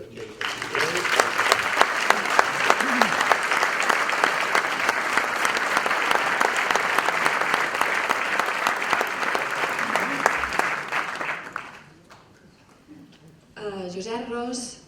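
An audience claps loudly for a musician at an album presentation, a sustained, dense ovation lasting about eleven seconds before it drops away. A short burst of talking follows afterward.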